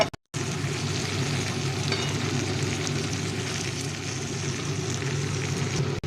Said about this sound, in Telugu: అరటికాయని ఇలా తిప్పుకుంటూ కలుపుకోవాలి